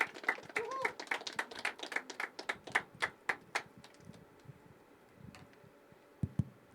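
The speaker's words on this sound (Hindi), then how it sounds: "तालियां बजती रहनी चाहिए जब तक वो यहाँ नहीं आ जाते" Small audience at a poetry open mic clapping, a sparse run of sharp individual claps that thins out and fades to a few scattered final claps, fairly faint in the room.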